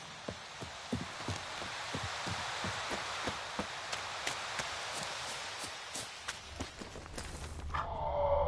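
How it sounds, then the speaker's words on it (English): Steady rain patters through a game world in The Witcher, with sharp, regularly spaced footfalls or hoof clops over the soft wash, fairly quiet and close. "Looks like rain."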